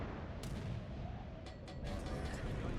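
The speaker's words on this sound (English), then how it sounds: "that sound you're hearing is the 5-inch 38 dual-purpose gun mounts" Deep booming fire from 5-inch/38 dual-purpose naval gun mounts in World of Warships rolls in repeated bursts beneath a constant low rumble, with sharp cracks coming through at a moderate distance.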